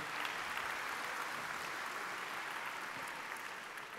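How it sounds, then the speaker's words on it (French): A graduation ceremony crowd gives sustained, even applause, a dense wash of clapping that continues without a break for the full few seconds at moderate distance. "Sous les applaudissements de la foule"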